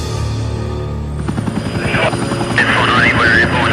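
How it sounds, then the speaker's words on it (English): Police helicopter circling overhead above a Melbourne street during a police shooting emergency, a loud steady rotor thump and engine whine filling the scene with voices over it. "You've got a helicopter overhead"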